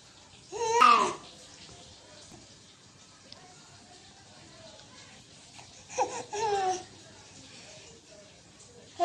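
A baby babbles and coos in two short bursts of vocal sounds separated by a long quiet stretch, close and clear over faint room noise.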